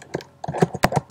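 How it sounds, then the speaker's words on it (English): A password is typed on a computer keyboard, several quick key taps in irregular clusters, close and fairly clear with no talking. "type in my password"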